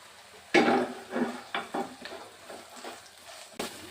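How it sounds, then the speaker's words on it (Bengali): Carrots fry in a pan for fried rice while being stirred, giving a soft background sizzle broken by several scraping, rustling stir strokes against the pan. "প্রথমে গাজরটা দিয়ে দিচ্ছি। গাজরটা ভাজতে একটু সময় লাগবে।"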